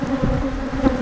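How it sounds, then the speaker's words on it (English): Bees buzz around a dead wasp, a continuous close droning hum with a few wingbeat swells. "Look at the bees now going to come around her."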